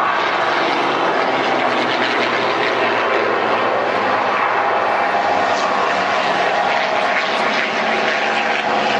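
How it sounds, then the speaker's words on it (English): Boeing B-17 bomber and P-51 Mustang, piston propeller aircraft at the Duxford Flying Legends airshow, pass overhead with a loud, steady, broadband engine roar and propeller drone that holds for the whole stretch. "Here comes the B-17 and the Mustang."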